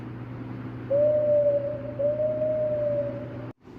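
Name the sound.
owl hooting in a Thomas and Friends episode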